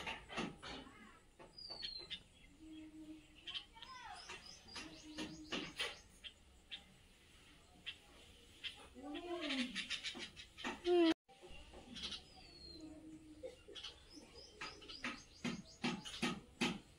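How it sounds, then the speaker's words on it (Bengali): Birds chirp and tweet in short bursts while feeding, some calls close and clear, others fainter, with quiet gaps between them. "কি সুন্দর খাচ্ছে পাখিগুলো।"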